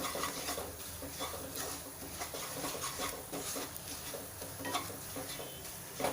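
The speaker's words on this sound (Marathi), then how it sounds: "धन्याची पावडर जिरा पावडर हळद हिंग हे मसाले अर्धा मिनिट परतून घ्यायचे आहे" Coriander, cumin, turmeric and asafoetida powders being sautéed in a pan for an aubergine and potato curry, a soft sizzle with repeated scraping stirs of a spoon against the pan, faint and close.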